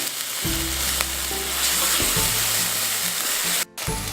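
Garlic and ginger sizzle steadily in hot oil for a Mongolian beef stir-fry, a close, loud frying hiss with occasional stirring clatter and a brief scrape near the end.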